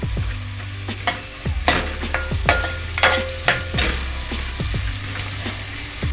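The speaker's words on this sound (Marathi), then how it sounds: "तर कांदा आपल्याला व्यवस्थित लालसर होईपर्यंत परतून घ्यायचा आहे" Onion frying in a pan for pav bhaji, a continuous sizzle punctuated by regular sharp scrapes and taps of a spatula stirring, close and fairly loud, with no talking.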